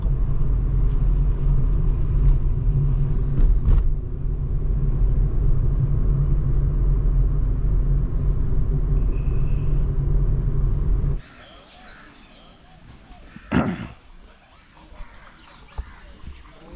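Car cruising at about 40 km/h on the road toward Netarhat, a steady loud low rumble of engine and tyres for about eleven seconds, then dropping abruptly to a quieter background with a brief knock.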